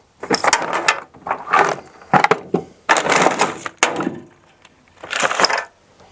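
Socket wrench ratchet clicking in bursts while working on a Mini Cooper S R53 with a half-inch socket, several short runs of close, crisp ratcheting separated by pauses, no talk.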